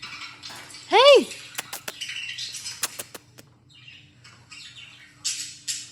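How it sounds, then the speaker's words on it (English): A pet budgie gives a loud squawk, then scattered short chirps and clicks close by, with quieter pauses between. "I'm going to do a video of my budgie Jed."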